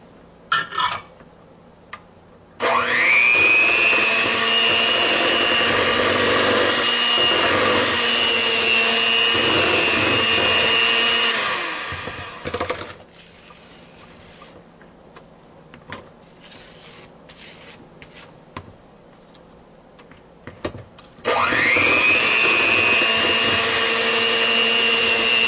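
An electric mixer beats cake batter with eggs and vanilla, whirring loudly and steadily for about ten seconds, pausing briefly, then starting up again near the end.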